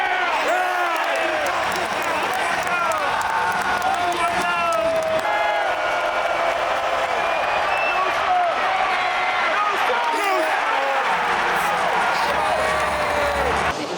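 A packed college football stadium for a Colorado State game roars with sustained cheering and whooping at kickoff, a dense, loud and continuous crowd wash with a commentator talking over it.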